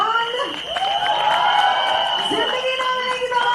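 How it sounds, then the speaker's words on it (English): A crowd at a film music launch event hoots, whoops and claps continuously, with loud bellowing cheers rising and falling over a sustained tone. "if you like them, you'll hoot or clap"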